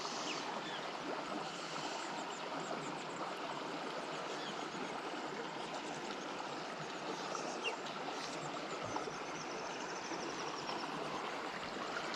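Small, shallow stream flowing, a soft steady trickle and burble of water with a faint constant wash, quiet and unbroken throughout with no voices.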